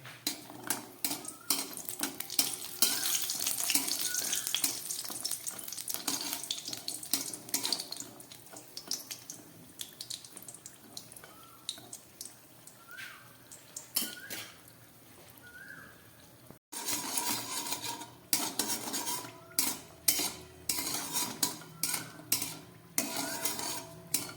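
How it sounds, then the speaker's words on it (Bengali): Lentil dumplings (bori) fry in hot white oil in a wok with a steady, close sizzle, broken by the clinks and scrapes of a utensil turning them. "আমি একটু বড়ি ভেজে নিচ্ছি।"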